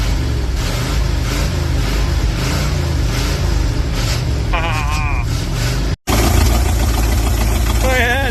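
The engine of an old 1978 Ford F-250 truck idles with a steady low rumble, close and loud, while people talk over it; the sound briefly cuts out and then resumes.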